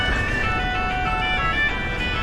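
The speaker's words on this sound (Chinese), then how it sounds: "那段熟悉的催命铃声再次响起" An ominous ringtone from the web drama Reset, a steady sustained electronic tone with a layered chiming melody, playing alone at moderate loudness.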